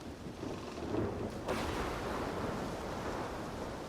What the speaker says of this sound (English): And maybe this lightning storm can be a cover for us.